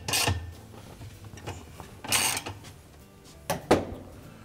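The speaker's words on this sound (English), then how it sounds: "we'll have to hold the base of the agitator to tighten the bolt" A 7/16 bolt is tightened on a Kenmore washer agitator, with a few short bursts of ratcheting, scraping and rubbing close by, spaced apart with quiet gaps between them.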